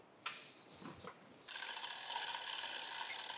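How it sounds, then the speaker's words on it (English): A gantry crane lifting a hydraulic press cylinder by an eye bolt, with a few ratcheting clicks at first, then a continuous close mechanical chain-and-gear whir that runs steadily to the end. "we are lifting this cylinder up nice and easy using my gantry crane"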